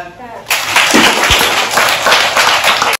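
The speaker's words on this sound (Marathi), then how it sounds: "टाळ्या" A classroom of schoolchildren breaks into sudden loud clapping after a quiet moment, a dense burst of many hands that holds steady for a couple of seconds, then stops abruptly.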